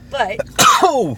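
One loud, close sneeze bursts out, with a sharp intake followed by an explosive release. Speech can be heard just before it.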